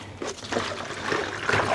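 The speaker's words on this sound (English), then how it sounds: "pour out the water" Water is poured out of a yarn dye pot after dyeing a yellow and green skein, a close, continuous splashing trickle lasting under two seconds.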